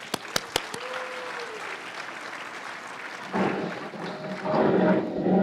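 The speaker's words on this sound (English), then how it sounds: "Hey, I appreciate the applause." Applause from an audience at an Air Force event, a few sharp claps at first, then a softer spread of clapping that swells toward the end.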